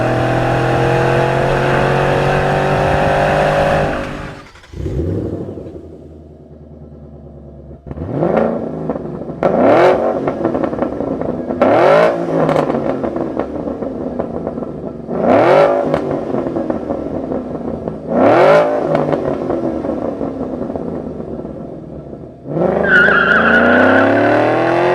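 A 2011-2014 Ford Mustang GT with a Borla S-Type exhaust goes through a run of loud revs, with several rising surges that each climb and fall away. Sustained engine tone opens and closes the sequence, and the exhaust is heard up close.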